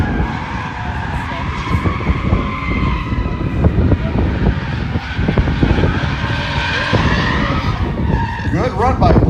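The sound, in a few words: Nissan 350Z drifting with tires skidding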